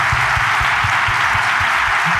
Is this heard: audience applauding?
yes